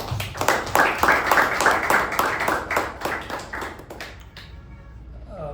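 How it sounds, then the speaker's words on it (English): A meeting audience gives a round of applause for Sharanye, steady clapping for about four seconds before it dies away into near silence. "Let's give a round of applause to our Sharanye."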